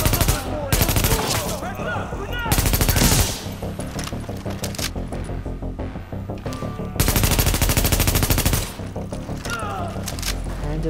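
Sustained automatic gunfire in The Division Underground DLC, loud bursts of rapid shots near at hand with a grenade blast amid the firefight, game voices calling out between the volleys.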